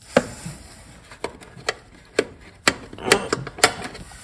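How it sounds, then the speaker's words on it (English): A 12 mm wrench works a bolt in an engine bay of a 1KZ-TE Prado, giving a series of sharp, irregular metallic clicks and taps, close and fairly quiet. "got a small little 12 millimeter wrench to get the job done"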